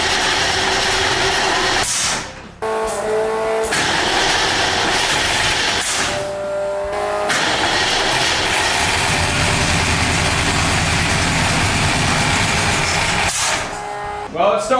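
Supercharged 1965 Ford Mustang engine turning over and running rough: a steady, loud, uneven mechanical roar with ragged, stumbling pulses, close by.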